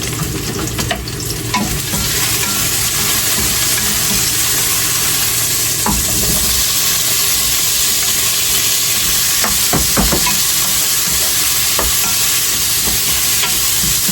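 Onion frying in a pan gives a steady, loud sizzle that runs throughout, with occasional scrapes and clicks of a utensil stirring, heard close and without talk.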